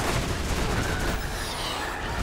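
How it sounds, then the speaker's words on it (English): Assault rifle burst fire in the Borderlands video game, rapid dense volleys of gunshots packed close together, loud and continuous across a brief stretch with other battle effects mixed in. "I think I found myself a new assault rifle."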